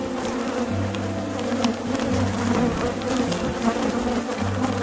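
New World Carniolan honey bees drone steadily and loudly at close range while an overwintered hive is opened for inspection, a continuous buzzing swarm with no talk.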